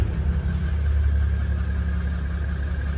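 A vehicle engine fires up and settles into a steady, close, continuous idle with a low rumbling drone and no talking.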